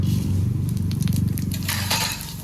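Dried red chillies and five-spice seeds crackle and sizzle in hot oil for mango pickle, a steady close frying hiss with scattered pops and no talking.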